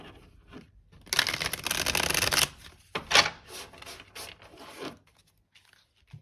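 A deck of tarot cards riffled and shuffled up close, a long dense burst of flicking followed by a few shorter shuffles and soft rubbing of cards.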